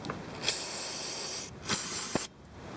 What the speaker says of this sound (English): So I'm just using brake clean.